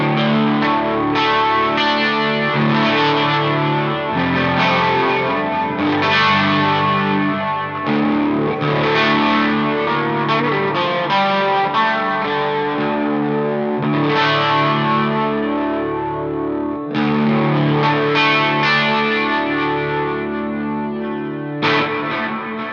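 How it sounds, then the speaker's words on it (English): An electric guitar played through a JHS Notadümblë overdrive pedal and an Ocean's Abyss reverb into an edge-of-breakup amp, with big, rich reverb, rings out in loud sustained chords and notes that blend and wash together. "Big, rich reverb sound."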